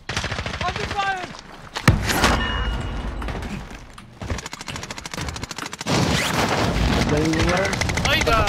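Gunfire in the video game Call of Duty Warzone, bursts of automatic shots and sharp cracks mixed with game effects, with players talking over the action throughout.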